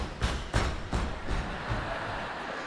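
Steady, evenly spaced muffled thuds from a percussionist imitate footsteps walking, about four soft beats that fade gradually over a faint room hiss.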